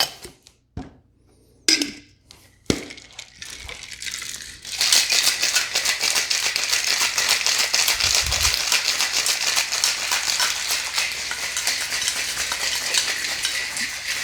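Cocktail shaker with Angostura bitters shaken vigorously, a fast continuous rattle of ice against metal that starts after a few clinks and sets-down and keeps a steady rhythm to the end.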